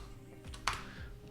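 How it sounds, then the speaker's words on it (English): Fingers tap a Leopold mechanical computer keyboard in a few quick, faint keystrokes, one sharper click standing out, close up over a quiet room hum. "Got my keyboard here."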